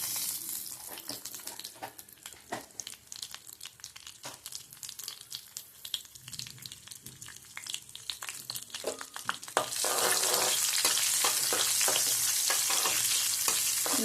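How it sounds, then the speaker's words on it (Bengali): Nigella seeds and slit green chillies temper in hot oil with a continuous close crackling sizzle and occasional stirring clicks, swelling into a louder, steadier hiss for the final few seconds. "5-10 সেকেন্ড রাখার পর যখন কালো জিরে ফোড়ন থেকে একটু ভালো গন্ধ বেরোবে"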